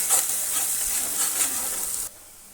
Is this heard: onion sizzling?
yes